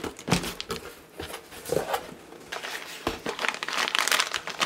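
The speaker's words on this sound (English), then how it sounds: "tissue paper." Fall Halloween-themed tissue paper being crinkled and handled for product packaging, with irregular close rustles and crisp crackling bursts coming and going in uneven clumps.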